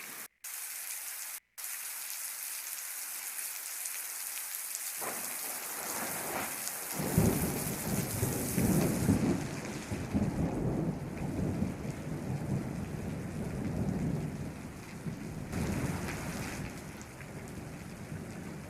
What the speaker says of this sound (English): you could have the thunder right there.